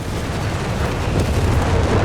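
Nebelwerfer rocket barrage in Company of Heroes 3, a dense continuous rumble of overlapping blasts and booms that swells slightly toward the end, with no talk.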